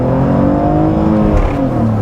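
A 2000s E46 BMW 330i with SMG gearbox drones loudly and steadily, its pitch rising gradually as it launches from 2,000 RPM under heavy throttle.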